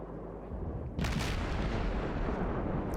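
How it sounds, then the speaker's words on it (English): Naval gunfire from HE shells on the destroyer USS Benson in World of Warships: a loud, broad boom bursts in about a second in over a constant low battle rumble, then continues as a dense roar. "I'm shooting HE at a pretty well armored, well, reasonably well armored target"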